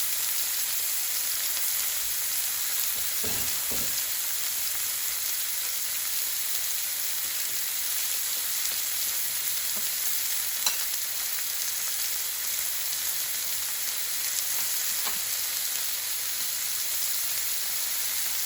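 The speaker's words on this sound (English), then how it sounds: "we'll sear this first side for about 2 minutes" Tuna sears in a hot pan, giving a steady, close sizzle and hiss that runs unbroken throughout, with a few faint clicks and pops and no voices.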